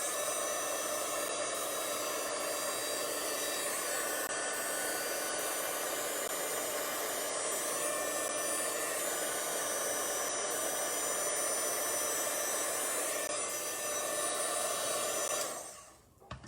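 A hair dryer blows steadily and loudly over wet watercolor paint on a card, a constant broadband whoosh that runs unbroken for the whole stretch before cutting off abruptly at the very end.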